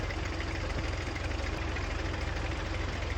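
Allis-Chalmers WD-45 gasoline tractor engine idling in Farming Simulator 19, a steady low, evenly pulsing chug with a slight knock, close and constant throughout.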